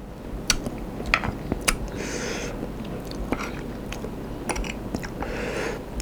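Close-up chewing and biting of stir-fried minced pork with egg, with soft wet crunches and a few sharp bites scattered across a steady, low background.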